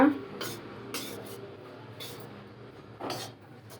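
Ragi puttu flour being mixed by hand in a vessel, with soft scraping and rubbing of the flour against the metal and a few sharper clinks spaced through, close and fairly quiet.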